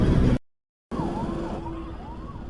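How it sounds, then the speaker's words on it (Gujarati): An ambulance stuck in heavy traffic sounds a warbling siren that rises and falls over a steady rumble of engines. A brief dropout cuts the sound to silence before it resumes, and no one speaks. "ટ્રાફિક બહુ જબરજસ્ત છે અને એમ્બ્યુલન્સ ફસાઈ ગઈ છે અંદર"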